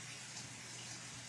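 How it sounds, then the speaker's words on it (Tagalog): Tap water runs steadily into a sink while dishes are washed, a soft continuous gushing stream heard close and alone, fairly quiet and even throughout. "Sige, agas ang tubig."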